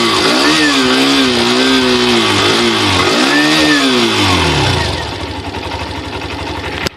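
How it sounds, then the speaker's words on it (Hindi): Hero Xtreme 125R motorcycle engine revved hard in neutral, its note climbing and falling through repeated throttle blips, loud and close, before dropping back to a steady idle. "पहले एक्सट्रीम 125 का साउंड सुन लेते हैं"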